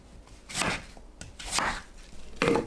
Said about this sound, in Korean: 무를 믹서에 갈기 좋은 크기로 대충 썰어줍니다.